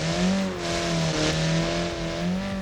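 Turbocharged Group B rally car engine rated at 458 horsepower on 2.5 bars of boost, revving hard and wavering in pitch, loud and close in the BeamNG racing game.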